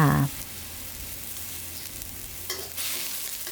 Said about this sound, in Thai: เป็นกระชายซอยนะคะนำมาผัดก่อนให้กลิ่นกระชายหอมฟุ้งเลยค่ะ จากนั้นเติมน้ำล้างคลุกลงไปได้เลยค่ะ